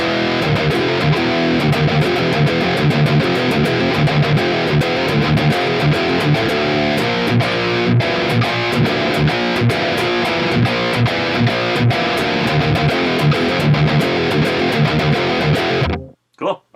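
A heavily distorted electric guitar plays loud, dense metal riffs, chugging palm-muted rhythms mixed with lead runs through the Bias FX Metal Signature Pack amp simulation, continuous for about sixteen seconds before cutting off.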